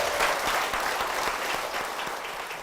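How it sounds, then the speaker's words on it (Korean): Church congregation applauding a church and its pastor, a dense, steady wash of many hands clapping close by, filling the moment and fading slightly toward the end. "우리 이 교회와 목사님을 위해서 다시 한번 큰 박수"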